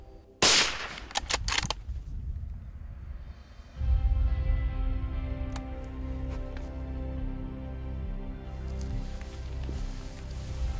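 A single loud rifle shot fired at a roebuck while stalking deer in Cornwall, a sharp crack near the start followed by a fading rumble and quiet outdoor ambience.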